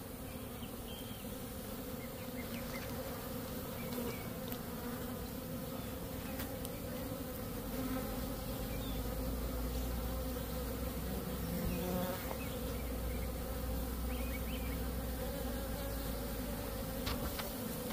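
A dense, steady drone of many honey bees buzzing together in a hive, continuous and close, holding the same level throughout with no voices.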